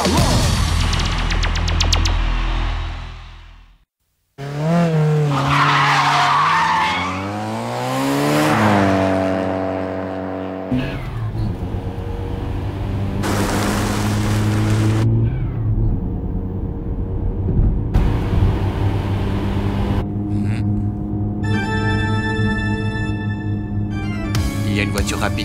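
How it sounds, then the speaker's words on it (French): A Nissan R32 GT-R and another fast car race in an anime, with engines revving, rising and falling in pitch, tires screeching and cars rushing past, loud throughout with voices talking in between. "Il y a une voiture rapide qui me suit."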